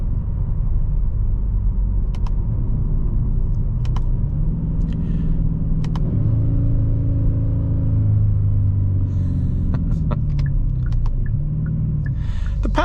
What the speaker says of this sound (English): this car also has a bit of kind of piped in noise too